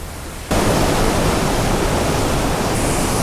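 A waterfall roars in a steady, dense rush that starts abruptly and stays loud and close, with no voices over it.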